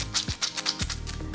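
Soft wet squelching and crackling bursts repeat in quick rhythmic squeezes as wet curly hair is scrunched by hand, close and fairly quiet, with no talking.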